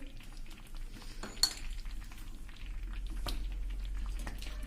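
A spoon stirs salt and sweet powder into tamarind chutney in a metal pot, giving soft scraping and occasional clinks with one sharp knock early on, over a steady low background hum.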